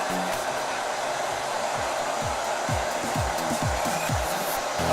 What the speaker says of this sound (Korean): JMW로 머리를 한번 말려보겠습니다.